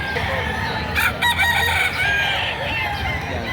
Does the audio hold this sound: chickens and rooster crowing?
yes